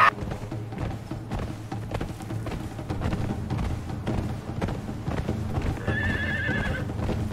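A horse whinnies loudly near the end over a steady clatter of hoofbeats and busy background game sounds in the video game Conan Exiles.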